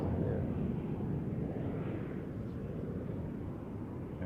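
An Air Baltic airliner at Amsterdam Schiphol airport gives a steady, broad jet rumble from some distance, holding even and continuous throughout.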